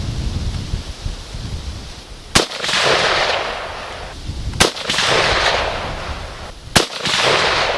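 Rifle gunshots from an M16 or SKS fired at a steel target outdoors, three sharp cracks about two seconds apart, each followed by a rolling echo, over wind noise.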